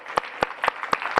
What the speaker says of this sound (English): can I get a big, big round of applause for my amazing staff